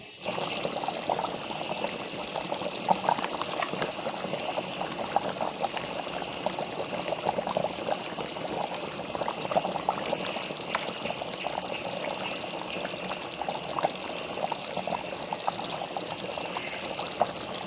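Tamarind juice pours into a chicken curry in a steady, unbroken liquid stream, a soft wet hiss and trickle that holds at an even level for a long stretch, close and alone without voices.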